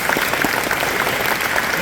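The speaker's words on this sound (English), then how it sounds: "So if you guys could just give them a round of applause real quick." A round of applause from an audience at a fall football and cheer awards event, dense, loud clapping filling the short stretch without a break.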